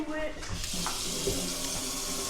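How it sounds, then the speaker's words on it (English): Tap water runs steadily into a kitchen sink while a spoon is washed, a continuous hissing splash close by with a few faint clinks. "Wash your spoon off."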